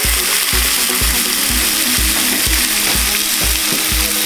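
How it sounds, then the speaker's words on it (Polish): Small pieces of salmon fillet sizzle loudly in a hot pan while a utensil stirs them in a steady rhythm of scraping strokes about twice a second. "Wylądował na patelni, a ja teraz tylko sobie zamieszam."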